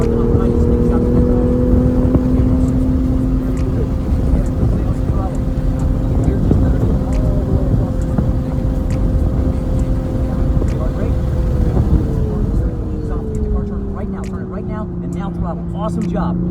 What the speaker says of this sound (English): Start adding smooth throttle, Walter.